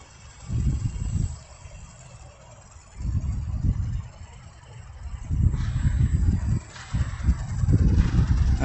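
A Go Go Bird remote-control flying bird toy with a brushless motor gives off a low, pulsing mechanical buzz in repeated surges, growing louder and more continuous toward the end.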